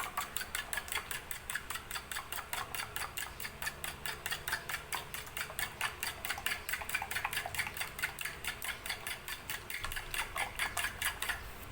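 Rapid, steady clinking of a utensil against a bowl while an egg is beaten for leche flan, a fast even rhythm of close, bright taps running throughout without talking.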